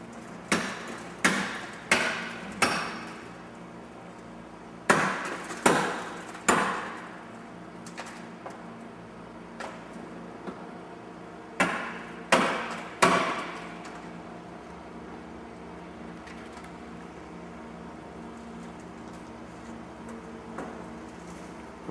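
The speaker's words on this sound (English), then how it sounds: "They're going to do a complete side removal of the vehicle." Rescue crew cutting and prying apart a vehicle's B-post for a full side removal, heard as a series of sharp metallic cracks and snaps in clusters with quieter mechanical work between them.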